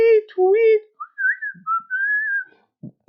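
A person whistles a short signal, a few rising and falling tones, preceded by brief tonal notes and followed by a couple of soft thumps, close and fairly loud.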